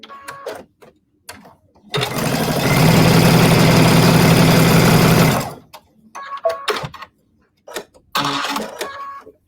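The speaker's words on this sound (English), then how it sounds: "We're just sewing a 1/4 inch seam here." A sewing machine stitches a quarter-inch seam in one loud, steady run of about three and a half seconds, bracketed by quiet handling clicks and fabric rustles before and after.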